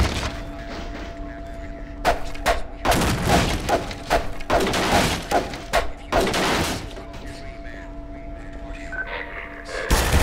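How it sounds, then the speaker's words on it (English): Grenade blast and a string of heavy thumps and gunfire bursts in the shooter video game Half-Life 2, loud and close, over a steady humming background tone. "This is grenade."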